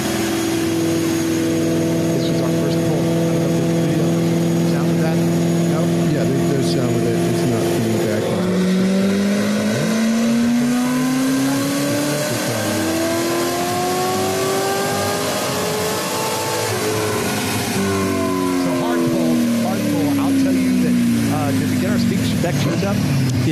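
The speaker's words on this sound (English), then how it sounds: "Bryce, I got to take the car over for a dyno run" A car on a dynamometer revs hard, its engine note climbing and falling in long sweeps, loud and close for the whole stretch.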